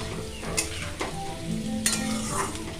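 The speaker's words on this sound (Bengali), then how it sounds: "সর্ষের তেলটা একটু গরম হতেই আমি দিয়ে দিয়েছি তাতে আলু" Potatoes frying in hot mustard oil in a kadai, a steady close sizzle and hiss with a few sharp clinks and scrapes of stirring, no voices.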